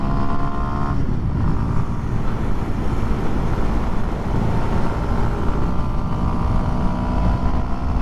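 A 2023 Kawasaki KLX230SM motorcycle with very short gearing held at full throttle, its engine a loud, steady, close drone with wind buffeting the microphone throughout.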